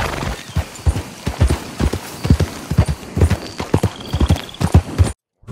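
Horse hooves clip-clopping in the video game Red Dead Redemption, a loud, close, steady rhythm of many hoof strikes from a dark bay roan Mustang, ending abruptly.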